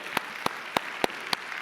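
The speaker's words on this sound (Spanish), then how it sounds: "Dale un fuerte aplauso al Rey" A church congregation claps together in a steady rhythm, six sharp, evenly spaced claps in under two seconds, fairly close and with no voices over them.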